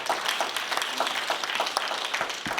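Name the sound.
audience applause for the speaker's daughters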